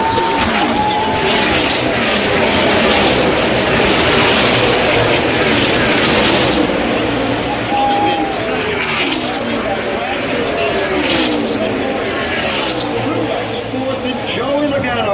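NASCAR race cars roar continuously at the 2017 Auto Club 400, a loud sustained engine drone with rising and falling pitch as cars pass, under an excited commentator's voice.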